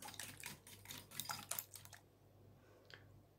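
A whisk beats milk into batter in a bowl for börek, giving quick, faint clicking and tapping strokes in a burst for about two seconds, then near quiet with one last soft tap.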